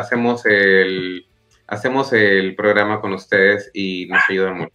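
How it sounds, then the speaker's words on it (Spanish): A dog barks repeatedly in loud, close bursts, overlapping with someone talking in Spanish throughout. "Ese es mi perro despidiéndose, por supuesto."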